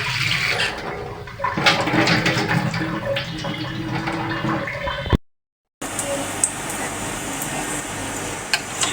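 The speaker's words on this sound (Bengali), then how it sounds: "এখন আমি টমেটো আর আলুটা ধুয়ে নিলাম।" Tomatoes and potatoes being rinsed under running water in a home kitchen, a steady splashing and pouring with brief clatter, cut by a short silent gap before the flow resumes.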